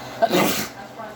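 A single short, sharp sneeze bursts out, close and fairly loud, then fades into quiet.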